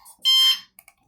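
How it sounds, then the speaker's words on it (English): Computer notification beep as a USB cable is plugged in, a single bright electronic tone lasting under half a second, followed by faint soft clicks in a quiet room. "And you hear the computer beep."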